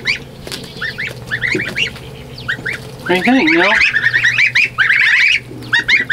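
Geese honking in loud, repeated bursts, growing denser and more insistent midway, with a short spoken question from a person among the calls.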